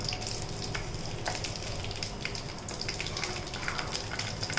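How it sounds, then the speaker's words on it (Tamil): Curry leaves and a green chilli hit hot oil for a quail gravy, giving a steady, close, dense sizzle with crackling pops that runs throughout without pause and with no voices. "அதுக்கப்புறம் கருவேப்பிலை போட்டுக்கோங்க. சின்னதாக ஒரு பச்சை மிளகாய் சேர்த்துக்கோங்க."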